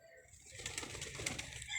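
A pigeon coos softly and repeatedly at close range, low throaty murmurs with faint background hiss.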